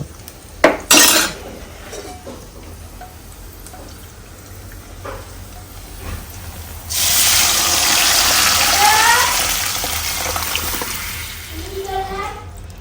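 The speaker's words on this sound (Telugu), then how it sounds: "పప్పు తాలింపు వేస్తున్నాను" Tempering being added to a pot of fenugreek-leaf dal: a sudden loud sizzle and splatter that starts partway through and keeps hissing steadily, with light clinks of utensils and pots beforehand.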